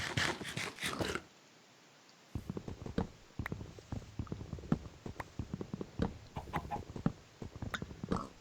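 A Minecraft chicken clucks in short bursts against a quiet outdoor backdrop, the clucks arriving one after another at an uneven rhythm with brief gaps between.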